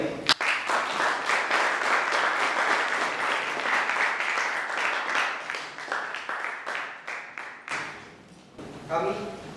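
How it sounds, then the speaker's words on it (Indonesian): An audience at a closing academic seminar on coconut water and plant growth applauds in a sustained patter that thins into scattered claps, with voices rising near the end. "Marilah kita berikan tepuk tangan yang meriah"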